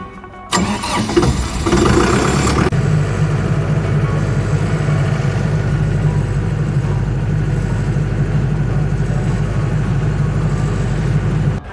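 A diesel engine cranks briefly, catches and settles into a steady, loud idle that runs on alone, after an engine shutdown error on a Datacom system was cleared.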